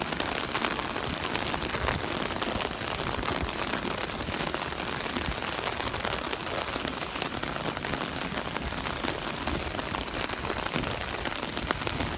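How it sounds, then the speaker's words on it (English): Heavy rain pours down steadily and loudly on an umbrella at Miramar Beach, Florida, a dense unbroken patter drumming throughout. "The rain is coming down really hard right now."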